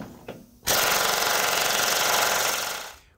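Power tool, likely an impact wrench, backs out a torsion bar bolt on a Dodge Durango during a 3-inch lowering job. After a short click, a loud, steady whir runs for about two seconds, then winds down alone.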